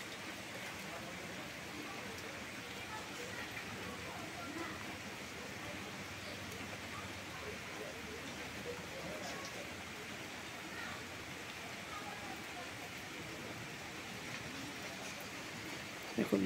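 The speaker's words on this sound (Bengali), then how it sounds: "দেখো বাইরে বৃষ্টি হচ্ছে" Rain falls steadily outside under a fully overcast sky, a continuous, even hiss of drops on surfaces that holds at the same level throughout with no pauses.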